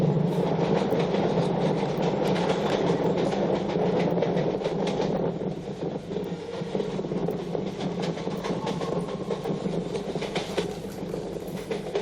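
A train runs along the rails, its wagons rumbling steadily with a rhythmic clickety-clack and a faint metallic squeal, close and continuous throughout.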